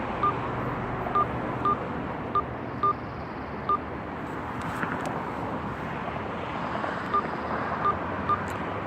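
Telephone keypad DTMF tones dialing a number into an automated voice messaging system: about ten short, evenly spaced beeps over a steady hum of background noise.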